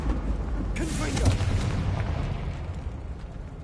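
Confringo spell explosion in Hogwarts Legacy, a sudden fiery burst about a second in followed by rumbling combat sounds, with a player talking over it.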